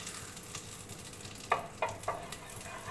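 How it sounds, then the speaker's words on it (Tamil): Butter melting in a pan for a veg cheese puff recipe, giving a soft continuous sizzle close by with a few sharper crackling pops near the end. "பட்டர் போட்டு நல்லா கொஞ்சம் மெல்ட் ஆனாலும் என்ன பண்ணுங்க"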